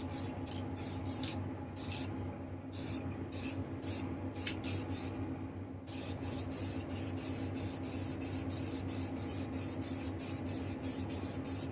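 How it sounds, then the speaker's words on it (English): Aerosol spray paint hisses in repeated short bursts onto a statue, laying down coats; a steady near hiss with rapid on-off pulses, then a longer run of regular evenly spaced sprays, with no talk. "spray a couple of coats, and then when it's completely covered we'll come back and we'll spray clear coat"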